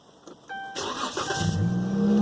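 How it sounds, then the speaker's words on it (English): A 2013 Dodge Charger's engine cranks and fires up, then settles into a steady, fairly close idle that builds slightly in loudness, with no talking. "So I'm going to turn the car on."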